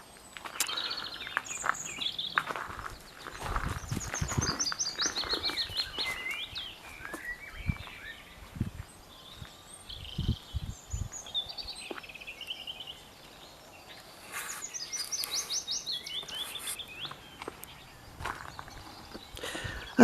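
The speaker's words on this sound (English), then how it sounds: "I just wanted to film this morning because of the sounds of the birds." Birds sing and chirp in a rural cottage garden in the morning, bright trilling phrases and calls coming and going at varied distances, with occasional soft footsteps or knocks below.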